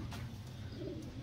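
Pigeons cooing softly in a continuous low murmur at a pigeon loft, close and steady with no talking.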